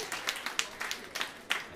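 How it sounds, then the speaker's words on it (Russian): Audience applause welcoming a singer-composer onto a concert stage, fairly faint with irregular distinct claps rather than a dense roar, as if from a small or thinning crowd. "Это ваши аплодисменты."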